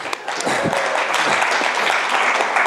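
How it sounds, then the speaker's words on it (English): A lecture audience claps for itself after a group exercise, a dense wash of applause that swells quickly and holds steady. "Give yourselves a clap"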